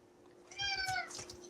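A cat gives a single clear, drawn-out meow in a room. It rises in the middle of a faint background hum and is heard on its own, with no talk over it.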